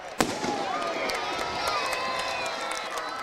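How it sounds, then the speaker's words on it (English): A single sharp firework bang goes off after a touchdown at a high school football game, followed by a sustained crowd roar and cheering with a voice talking over it. "I'm waiting on the firework here because it always startles me."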